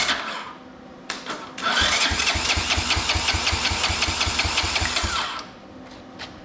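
A Honda ATC three-wheeler engine cranks over for a compression test with the throttle open and the choke off, a loud, fast, steady rhythmic chugging that runs for several seconds, then stops.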